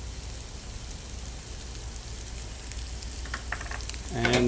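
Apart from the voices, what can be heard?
curry powder toasting in a pan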